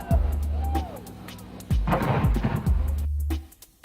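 Fireworks at an Independence Day celebration: several loud booms, each led by a rising whistle and followed by crackling bursts, with no voices.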